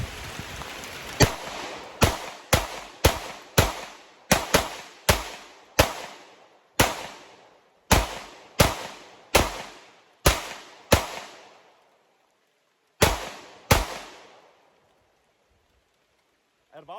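Sig P365 X-Macro pistol fired outdoors in the rain, about fifteen sharp, loud shots in an uneven string with short gaps and decaying echoes, a pause, then two final shots before silence.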